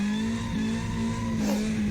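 A low-power drift car engine drones at high, steady revs with a sharp tire squeal bursting in near the end, loud and close with no talk.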